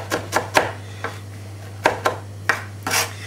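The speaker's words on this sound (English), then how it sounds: "Keep chopping and chopping" A knife chops fresh parsley on a board, giving sharp, close taps in uneven bursts of two or three with short pauses between them, and a steady low hum underneath.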